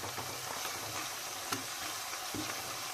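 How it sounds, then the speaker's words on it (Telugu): Ginger, garlic and onion fry in a pan for a village-style brinjal curry, a constant close sizzle and crackle with a few sharper pops and stirring scrapes, and no voices. "ఇలా అల్లం వెల్లుల్లిపాయ వేసి వేగిన తర్వాత"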